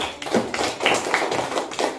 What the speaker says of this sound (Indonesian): Kita beri tepuk tangan buat